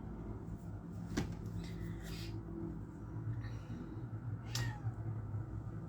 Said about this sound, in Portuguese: Olha a minha gatinha, ela está aqui apontando.